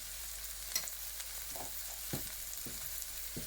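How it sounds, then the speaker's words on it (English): Callaloo and saltfish stirred in a pan over a constant hiss of frying, with soft scraping strokes of a utensil every half second or so, close but quiet and without speech. "just give this a little bit of a stir because we don't want it to burn"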